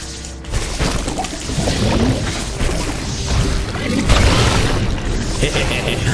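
Explosions and rumbling blasts from the video game Ori and the Blind Forest fill a dense, noisy soundscape, with heavy booms and crashing debris throughout.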